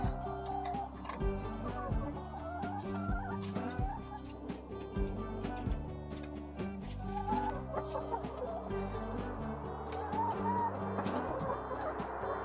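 Several chickens on an off-grid homestead cluck and murmur close by, with soft scattered calls and occasional taps, no talking.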